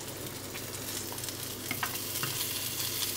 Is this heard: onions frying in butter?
yes